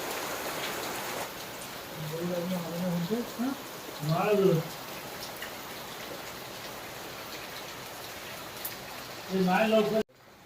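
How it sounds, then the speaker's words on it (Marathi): Steady monsoon rain in Raigad hisses throughout, with a few brief voices rising over it now and then. "आता जास्त पाऊस आलाय"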